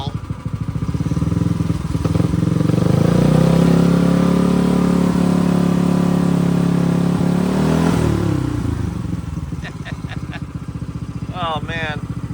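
Tillotson engine on a drift trike with no drivetrain connected, revving loud and close in a long sustained rise, holding high, then dropping back toward idle, with brief chirping sounds near the end.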